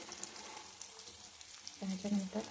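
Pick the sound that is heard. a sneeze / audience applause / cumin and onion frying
cumin and onion frying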